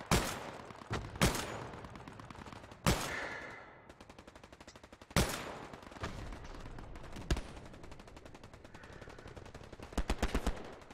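Gunfire in the World War II shooter Hell Let Loose: sharp single rifle shots and short bursts crack out at irregular intervals, some loud and close, others more distant, ending in a quick rapid volley.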